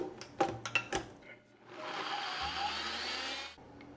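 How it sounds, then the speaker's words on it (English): A blender whirs nutritional yeast and tamari into a creamy mix, starting after a few clicks and knocks and running as a steady rushing hum for about two seconds before it stops. "We're just going to blend this together until it's really nice and creamy."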